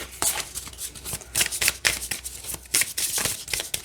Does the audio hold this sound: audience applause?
no